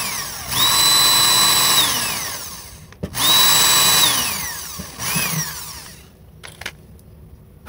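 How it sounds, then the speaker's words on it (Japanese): A power drill bores a hole in a rain gutter made from aluminium cans, in two loud sustained whining bursts with spin-up and wind-down, followed by a shorter burst and faint clicks, close and with no talking. "じゃあね、ここ穴開けていきたいと思います。"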